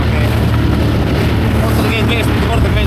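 Outboard motor on a sailboat running during a storm at sea, a loud continuous engine drone mixed with heavy wind buffeting and rushing water, with people talking over it.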